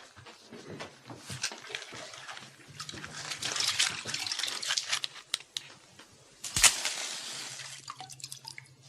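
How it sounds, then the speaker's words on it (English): Water is sprinkled over a heap of straw about to be lit with a match: irregular close drips and patters with short splashy bursts, one sharper splash near the end, over quiet room tone. "will you sprinkle it with water?"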